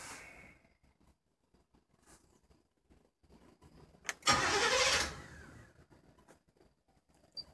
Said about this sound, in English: I didn't start the car all day, so it probably takes twice for it to start.